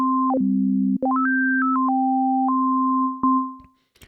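An Elektron Digitone FM synthesizer plays clean sine-like tones two octaves apart, a steady low drone under a higher voice that steps up and down through several pitches before settling and fading out.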